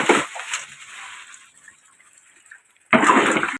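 Water pours from a tub into a sand and cement mix, a short rushing splash at the start, a quiet stretch, then a louder, steady gush near the end.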